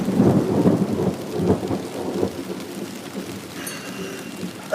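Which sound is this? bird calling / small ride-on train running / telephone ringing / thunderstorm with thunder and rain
thunderstorm with thunder and rain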